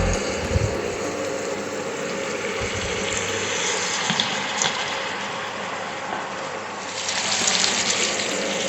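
Water is poured into a pan of beans bhaji, a steady close splashing gush that runs continuously and swells slightly near the end.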